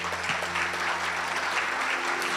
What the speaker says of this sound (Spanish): ¿Le puedes dar un fuerte aplauso a nuestro Dios?